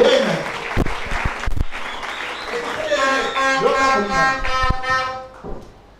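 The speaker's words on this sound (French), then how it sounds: "Acclamons très fort le roi de roi" Church congregation applauding after a sermon, a dense burst of clapping and cheering mixed with voices and a singing tone, rising then fading toward the end.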